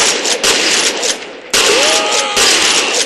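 Loud, sustained automatic weapon fire from guns in the shooter game F.E.A.R., long rattling bursts broken by brief pauses, close and dominant with little else beneath.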